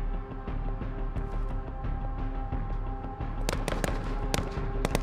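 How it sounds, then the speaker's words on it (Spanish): In the Modern Warfare campaign, a mission attacking the American embassy, gunfire shoots out lights: a steady stream of sharp cracks and pops, with a cluster of louder snaps near the end, over a constant low ambient drone. "¡Están disparándole a las luces!"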